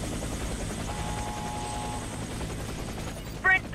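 Military helicopter in the video game Warface, a steady whirring rotor drone throughout, with a brief sharp burst of another game sound near the end.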